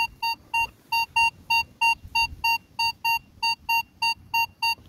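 Minelab Vanquish metal detector sounding over a Victorian penny: a steady run of about fifteen short, evenly spaced high-pitched beeps, loud and close, with no talking.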